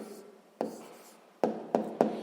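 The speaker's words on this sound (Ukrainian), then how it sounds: "Записуємо тоді відповідь." Pen writing an answer by hand on paper, a soft continuous scratch broken by four sharp taps as strokes land, close and quiet.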